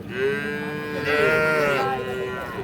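At a busy cattle market, a Friesian dairy cow lets out a sustained, strong moo lasting a couple of seconds, rising slightly mid-call and trailing off, heard up close above faint crowd noise.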